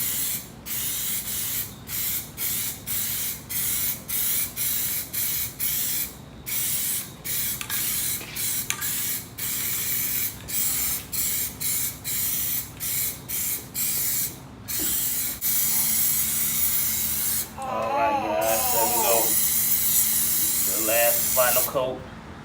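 Plasti Dip is sprayed onto car rims in short repeated bursts of close hissing aerosol, each followed by a brief pause, then longer continuous spraying, with someone talking over part of it.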